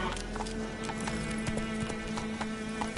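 Roach, a horse in The Witcher 3 video game, gallops with steady rapid hoofbeats and occasional neighs, loud and close over a continuous game soundtrack.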